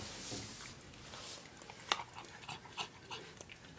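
A dog eating peanut butter, wet smacking and licking sounds with a few sharper mouth clicks and light panting, close and fairly quiet, no talking.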